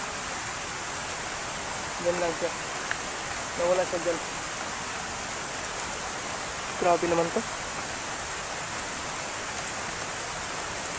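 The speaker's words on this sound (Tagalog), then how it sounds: "Kasi napakalakas na ng ulan, kailangan ko pang umuwi." Heavy rain pours steadily outdoors as a broad, constant hiss, with a few brief bursts of talk rising above it.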